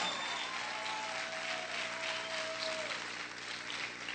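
A church congregation applauds together during a Spanish-language worship service, a dense and steady wash of clapping that stays fairly faint and even for about four seconds.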